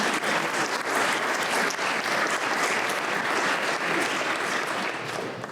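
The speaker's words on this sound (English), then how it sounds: "we want to give you a round of applause" An audience at a small business awards breakfast forum applauds the board of directors, with dense, steady clapping from many hands that holds close and loud throughout, easing slightly at the very end.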